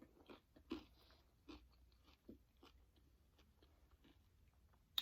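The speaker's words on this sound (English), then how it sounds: "Do you hear that crunchy bacon?" Someone chews crunchy bacon on a wedge salad with blue cheese crumbles, giving repeated faint, close crunches and bites in an uneven rhythm.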